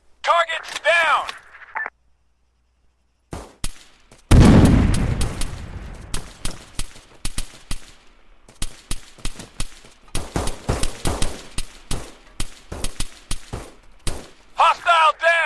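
Video-game sniper fire and combat: a heavy boom and blast, then a long run of rapid, evenly spaced shots, loud and close. Shouted callouts come in short bursts at the start and end.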